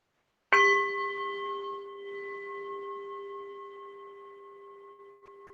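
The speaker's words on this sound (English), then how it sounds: "Just listen to the sound of the bell." A single meditation bell struck once, a clear bright strike followed by a long, steady ringing tone that sustains and slowly fades over several seconds in a quiet room.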